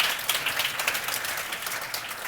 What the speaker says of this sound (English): a round of applause for our panelists for starting this morning off